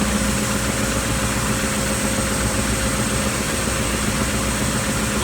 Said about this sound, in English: It sands better if you don't do it all at the same spot.